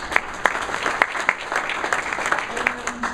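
Audience clapping for introduced guests at a Rancho Cordova community luncheon, a modest roomful of hands with distinct individual claps over a few seconds while a voice speaks.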